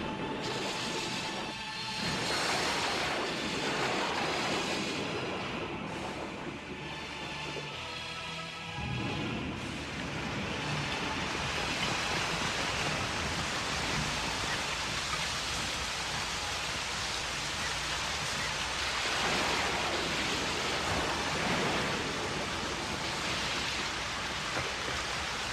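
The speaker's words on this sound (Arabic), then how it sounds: "يا لهذا المطر الغريب، لم نشهد أمطارا كهذه منذ سنوات." Heavy, steady downpour of rain in an animated film, a dense continuous hiss that fills the scene with a few shifts in intensity and no voices.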